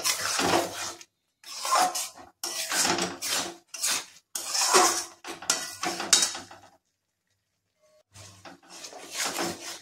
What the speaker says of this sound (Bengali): দিয়ে এবারে আমি ভালো করে মিশিয়ে নেব তরকাটাকে